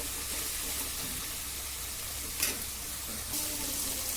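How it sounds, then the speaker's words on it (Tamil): Broad beans (mochai) sautéing in a pan, a steady low sizzle with a couple of brief scraping stirs, close by. "நமக்கு தேவையான அளவு மொச்சையை போட்டு அதையும் நல்லா வதக்குங்க"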